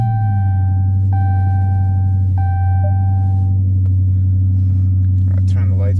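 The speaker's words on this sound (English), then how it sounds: "Let's go ahead and hit the start button here, and we'll hear cold start." Cold start of a 2023 Dodge Challenger R/T Scat Pack with 181 miles on it: a loud, steady, deep engine rumble held close throughout, with a few soft chime tones early on.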